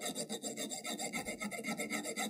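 A hand file works a fishing rod guide in quick, even strokes, producing a rhythmic scraping rasp of about a dozen close, quiet passes with no voices.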